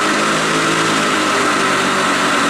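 A Black & Decker 60V battery-powered lawn mower runs close by with a steady, loud whirring motor drone that holds constant throughout, and no one speaks.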